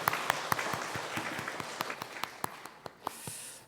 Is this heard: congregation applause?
yes